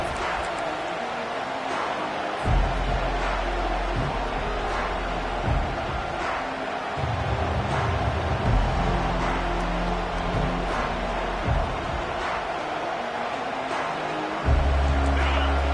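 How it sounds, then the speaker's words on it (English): A stadium crowd at a football game keeps up a dense, steady roar throughout, with occasional swells. An announcer talks over the noise. "This crowd bringing an ear-splitting welcome to their visitors."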